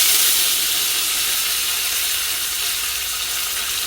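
Shallots frying in coconut oil in a pan, a loud, dense, even hiss of sizzling oil close by, steady from start to finish with no speech.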